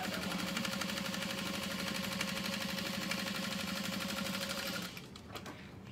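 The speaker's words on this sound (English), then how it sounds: "I'm gonna add another row of stitches that are the inner foot away from the other one" Sewing machine stitching a second row of stitches on a satchel, a fast steady mechanical hum running close and continuous before stopping near the end, followed by a few light clicks.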